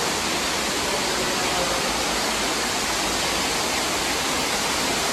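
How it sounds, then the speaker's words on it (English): Steady, dense rush of water from an indoor decorative waterfall at King Spa, constant and fairly loud with no breaks, and no voices audible over it. "look at the waterfall"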